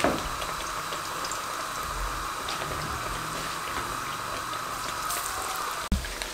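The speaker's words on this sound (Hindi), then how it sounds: "ये तमाम मैं इस तरीके से फ्राई कर लूँ" Leftover roti pieces frying in hot oil give a steady, even sizzle that runs throughout, broken by a single sharp clatter near the end.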